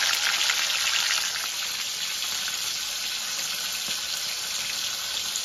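Rohu fish pieces fry in hot oil with a dense, continuous hissing sizzle, louder at first and then settling to a steady level, with no voices.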